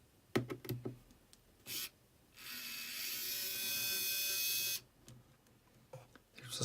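Screws being removed from a Facebook Portal during a teardown: a small electric screwdriver whirs steadily for about two seconds, framed by sharp clicks and taps of parts and tools, close and fairly quiet.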